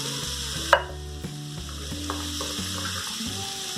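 Pumpkin curry frying in a pan as jaggery goes in, a steady low sizzle with a sharp knock of the spoon early and soft stirring scrapes after.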